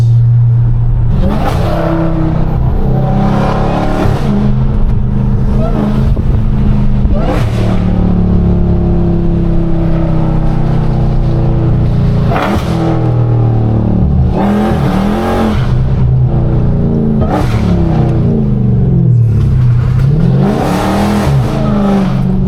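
A Dodge Hellcat's engine revs hard in repeated bursts, each surge climbing and falling back, loud and close from inside the car with a steady rumble between pulls.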